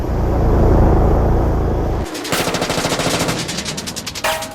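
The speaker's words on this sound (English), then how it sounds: "Its rockets missed, but its cannon fire didn't." A deep aircraft engine roar gives way to a rapid burst of heavy cannon fire aimed at a warship, dozens of loud rhythmic thuds in quick succession, close and powerful.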